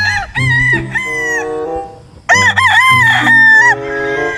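Gamefowl roosters at a game farm crow loudly and close by, one long cock-a-doodle-doo followed after a short pause by a second strained crow, with no talking over them.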